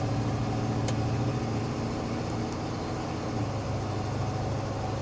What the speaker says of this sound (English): Acceleration is no thing for this truck. You got all the throttle response you could ever want.